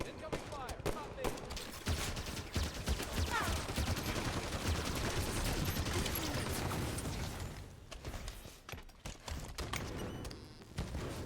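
Rapid bursts of gunfire in the Halo 5 video game, a dense sustained stream of shots over several seconds that thins out near the end, with a voice talking over it.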